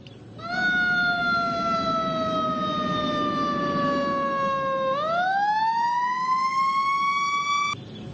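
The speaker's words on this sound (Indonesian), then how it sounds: "ada mobil pemadam kebakaran" A toy fire truck siren wails steadily and loudly, its tone sliding slowly downward, then sweeping back up and holding before cutting off.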